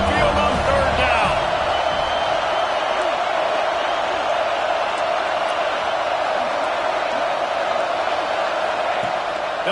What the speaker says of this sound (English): The Tide crowd rolling noise down onto Saban Field on 3rd down.